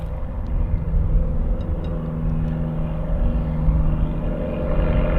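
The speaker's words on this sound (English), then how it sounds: "Another light aircraft just departed as well." A light aircraft departs Hawarden Airport with a loud, steady engine drone and rumble that holds at a constant level throughout, with no voices over it.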